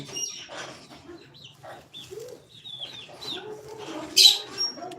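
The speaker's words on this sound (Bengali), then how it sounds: "সব মুরগি ঢুকে গেছে দেখতে পাচ্ছ" Chickens cluck and call in a steady, close stream as they crowd into their coop at dusk, with a brief sharp squawk near the end and no talking.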